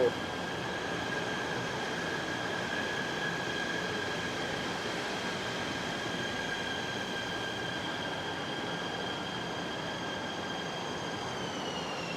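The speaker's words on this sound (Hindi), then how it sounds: "ये देखो ट्रेन आ गई" A train pulls into Batu Caves station in Malaysia with a continuous loud rumble of wheels on rails and high squealing tones that hold steady and then slide. Faint speech is mixed in beneath.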